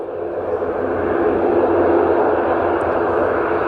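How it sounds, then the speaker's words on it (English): A small Aer Lingus airliner at Edinburgh Airport gives off a steady, loud, broad engine roar, constant throughout, with no voices. "Looks like an Aer Lingus there."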